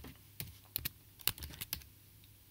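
Code being typed on a computer keyboard, a few scattered bursts of quick, crisp key clicks with short pauses between them, close and fairly quiet.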